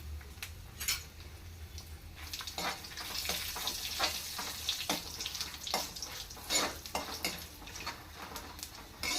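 Chana dal, cumin seeds and dried red chillies fry in hot oil in a pan, a soft crackling sizzle broken by clustered pops and stirring scrapes.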